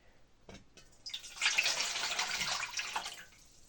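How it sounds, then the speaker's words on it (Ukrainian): Warm water, about a litre, pours steadily into a bowl for bread dough in a home kitchen, a bright splashing stream rising after a few faint knocks and running close and continuous for about two seconds. "літр теплої води."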